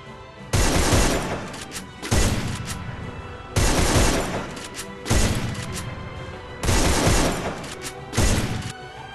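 Weapon fire in the mobile shooter Free Fire, run on an emulator with macros: six separate loud bursts of rapid shots, each about a second long with a decaying tail, spaced by short gaps.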